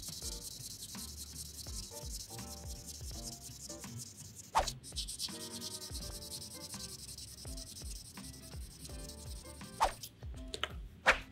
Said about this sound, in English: Right now I have a sanding stick that is usable on a stick so that it's easier to hold.